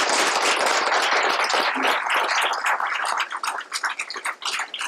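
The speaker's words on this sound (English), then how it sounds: "So let's give these five art teachers a huge round of applause." Board meeting audience applauding five art teachers, strong clapping that starts dense and loud, then thins toward the end into separate, distinct claps.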